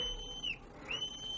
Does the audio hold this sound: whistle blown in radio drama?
yes